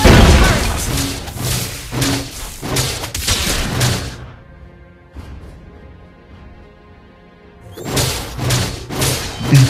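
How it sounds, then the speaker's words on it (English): Several heavy thuds and booming impacts land in quick succession as a turret is destroyed in a Star Wars game, followed by a quieter stretch of lingering hum before another loud burst of impacts. "You destroy the turret."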